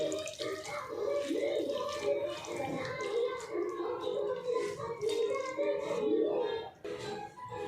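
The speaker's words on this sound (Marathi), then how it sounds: "आता स्वच्छ घासून धुवून घेते दोन तीन पाण्यानं स्वच्छ असं" Leafy vegetables are being washed by hand in water, with soft sloshing, splashing and dripping close by, quiet and continuous with small irregular bursts, and no talking.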